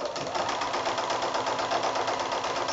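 A sewing machine runs a steady buzzing lock stitch through the thick binding on a quilted placemat, close and continuous from start to finish with no talking.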